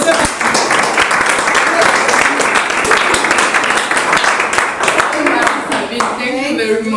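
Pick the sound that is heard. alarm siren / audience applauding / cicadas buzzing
audience applauding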